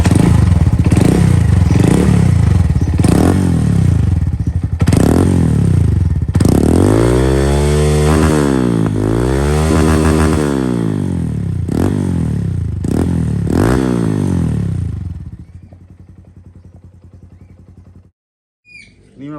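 Honda Monkey 125 fitted with an Over Racing TT-Formula exhaust, a five-speed bike, revving hard in loud repeated blips with rising and falling sweeps, then cutting to near silence at the end.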